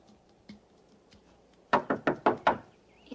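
Five sharp knocks on a door in a quick, even series, loud and close, following a quiet stretch with a faint thump.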